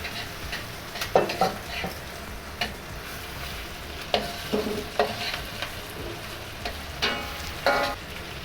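Big shrimp stir-frying in a pan for pad thai, a steady sizzle broken by repeated scraping and stirring clatters of the utensil against the pan, close up with no talking.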